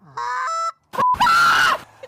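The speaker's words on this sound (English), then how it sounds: "play the goose one more time" A recorded goose honk played back over speakers, several loud nasal honks in quick succession, close and clear with no talking over them.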